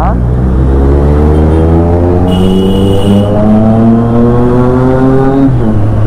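BMW motorcycle engine held at loud, close revs, its droning note climbing in pitch in steady sweeps over several seconds, with voices talking over it.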